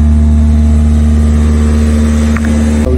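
Citroën C4 Picasso diesel engine running at steady raised revs during DPF regeneration, a loud continuous close-up drone with a faint brief blip near the end and no talk.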